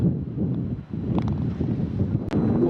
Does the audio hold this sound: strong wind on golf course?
yes